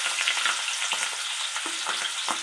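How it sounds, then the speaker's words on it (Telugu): Paneer frying in hot oil in a pan, a steady close sizzle broken by a few short stirring clinks and scrapes, with no voices. "ఇప్పుడు పన్నీరు అవి వేయించుదాం ఫ్రెండ్స్"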